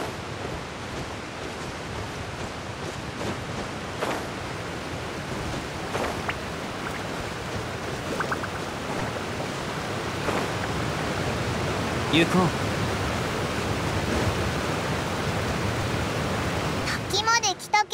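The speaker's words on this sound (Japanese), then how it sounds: "滝まで来たけど、水の勢いがものすごいな。" Loud, steady rush of a powerful waterfall in the video game Genshin Impact, a continuous broadband roar filling the whole clip, with a brief spoken line and game effects over it.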